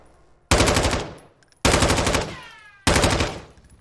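Three long, loud bursts of automatic gunfire in a Call of Duty esports match between Vegas Legion and Minnesota Rokkr, with players shooting through walls. Each rapid volley tails off before the next begins.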